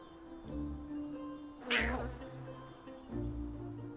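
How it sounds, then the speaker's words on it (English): Insect-like buzzing of bees from the nature-building video game Preserve, a faint steady drone with one louder swelling burst in the middle, no talking. "Hope I'm not allergic to bees."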